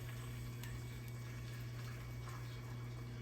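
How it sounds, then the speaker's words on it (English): Brine pours from a measuring cup into a jar, a steady unbroken liquid trickle and splash with a low continuous hum beneath it, close and fairly quiet. "we're just going to pour it right into the jar, just like that"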